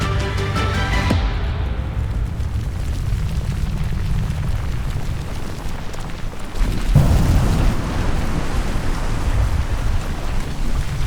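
Deep, continuous rumbling boom of a volcanic supereruption, a dense low roar filling the whole stretch with a surge in intensity partway through, loud and unbroken with no voices.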